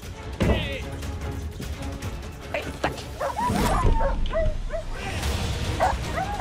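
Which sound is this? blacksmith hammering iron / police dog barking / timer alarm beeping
police dog barking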